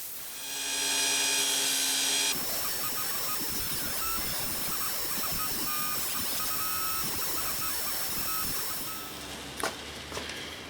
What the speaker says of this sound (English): So just a quick go on the polishing wheel and you get the idea.